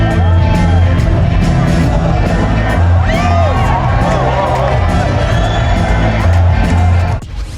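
Dense concert crowd at a show in the Netherlands roars and cheers continuously during a stage dive, with whoops and shouts riding over loud, steady music before the noise drops off near the end.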